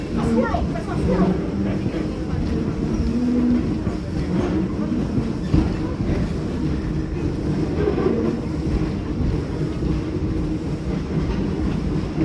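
Riding behind a steam locomotive at Greenfield Village brings a constant, close rumble of the train with light rhythmic clatter from the wheels and cars, holding an even loudness throughout.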